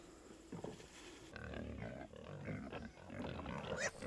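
Several pigs on a small farm grunt, snort and squeal together, a busy, close, overlapping chorus of rough animal noises that continues throughout.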